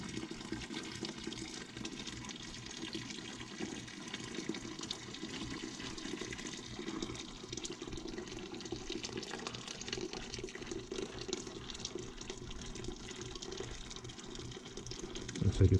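Water rushes steadily through a steam trap strainer as it is flushed out, a continuous, fairly faint gushing wash with no clear breaks.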